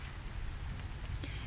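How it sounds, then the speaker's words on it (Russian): Light drizzle patters steadily on surfaces in a summer dacha garden, a soft continuous hiss of fine raindrops with a few louder individual drips, no voices. "Морось мелкая."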